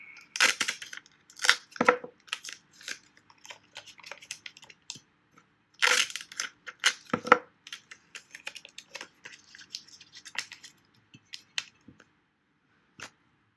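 Masking tape is pulled from the roll and pressed onto a 10-inch subwoofer during a rebuild, giving close, irregular bursts of crackly tearing and tapping with quiet pauses between them.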